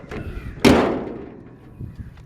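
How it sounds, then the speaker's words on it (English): A heavy metallic slam as the steel hood of a 1964 Chevrolet C-10 truck closes, landing sharply, then ringing and fading over a second or two; faint outdoor background continues around it. "Love the sound of those steel hoods closing down like that."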